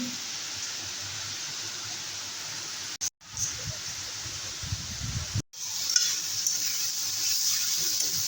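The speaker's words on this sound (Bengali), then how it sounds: "কত জোরে বৃষ্টি হচ্ছে বাপরে আকাশ ফুটো হয়ে গেছে কি বৃষ্টি কি বৃষ্টি" Dense, steady hiss of heavy rain, constant and loud, briefly cut by two short dropouts, with no speech.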